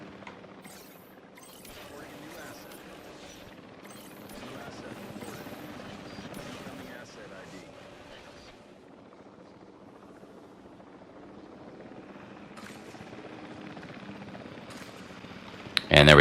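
A helicopter in the dinosaur-park video game Jurassic World Evolution 3 hums as a faint, steady rotor drone that rises and falls gently, with a sharp burst at the very end.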